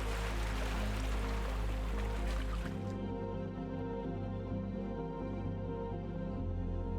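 Cascading waterfalls pour through a stone gorge at Watkins Glen State Park, a steady dense rush of water that runs loud and unbroken through the whole stretch, with no voices.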